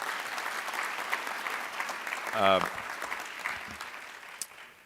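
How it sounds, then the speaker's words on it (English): An audience at an award ceremony applauds continuously, a dense wash of many hands clapping that holds steady throughout, with a brief tonal blip partway through. "So can we give him a round of applause as well?"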